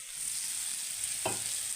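Potatoes sizzle as they are sautéed in oil in a pan while cooking a tilapia fish vegetable kaliya, with a steady frying hiss and a single scraping stir of the spatula near the end.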